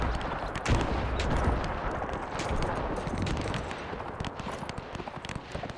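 Massed WW1 rifle fire in a German Empire war video game crackles as dense, overlapping volleys of distant shots over a constant battlefield rumble, with no break in the firing.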